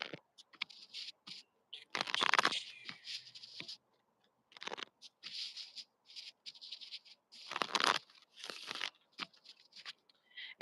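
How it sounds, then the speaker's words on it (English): A deck of cards is shuffled and riffled in crisp bursts of papery flutter and snapping, with two louder riffles among shorter taps and pauses, close up and without talk. "It looks like I'm shuffling cards"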